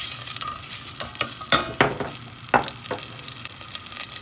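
Chopped onion fries in olive oil for a couscous dish, a steady close sizzle with several sharp clicks and scrapes of stirring over it.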